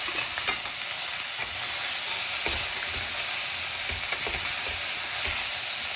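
Cucumber and green chilli pieces sizzle and fry in a pan with curry leaves and dried red chilli, a steady hiss with occasional stirring scrapes, close and continuous, with no talking.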